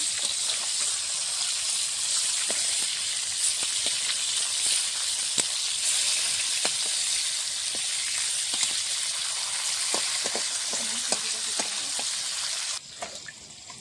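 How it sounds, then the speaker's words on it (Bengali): Pieces of rohu fish fry in hot oil in a pan, a steady bright sizzle with scattered pops and crackles running the whole time, close and even, with no talk. "এখানে মাছটা ভাজা হচ্ছে, উল্টিয়ে দেবো।"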